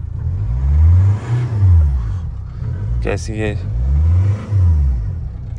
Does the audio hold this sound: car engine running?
yes